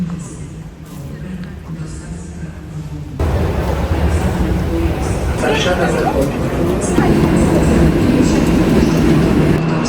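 A Polish express train stands at a busy station, its rumble and rolling rail noise swelling loud after a few seconds amid station hubbub, with a person talking nearby.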